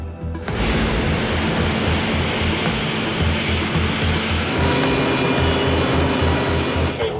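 A Lynx naval helicopter flies near a ship in the Magellan Straits, producing a loud, continuous engine roar with a steady low rotor pulse that holds throughout.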